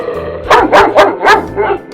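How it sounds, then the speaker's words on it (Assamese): A dog barks close and loud, four sharp barks in quick succession followed by a softer fifth, over a faint low hum. "কুকুৰৰ মাতটো শুনো আহাচোন।"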